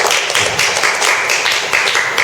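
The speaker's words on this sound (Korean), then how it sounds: "우리 박수 한번 드릴까요?" A seated audience at a Korean poetry-writing lecture in Gunsan breaks into sustained, dense applause, a steady wash of many hands clapping together throughout, fairly loud and close.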